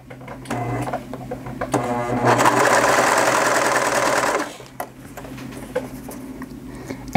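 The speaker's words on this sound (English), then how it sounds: "I don't like to sew with just like my socks and pressing on like the presser foot" A sewing machine stitches swimwear in a steady, fast mechanical whir that builds into a loud continuous run mid-clip, then drops to lighter clicks and handling noises, close and without talk.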